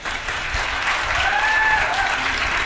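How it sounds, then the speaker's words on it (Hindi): An audience at a Teacher's Day kavi sammelan applauds in honour of the cameraman and sound crew, a steady, full burst of clapping that holds evenly throughout, with a faint voice briefly audible midway. "एक बार आप इन दोनों के सम्मान में तालियां बजा दें।"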